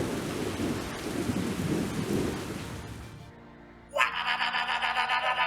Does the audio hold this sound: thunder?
yes